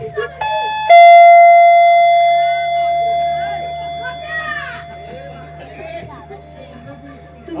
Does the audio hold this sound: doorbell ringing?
yes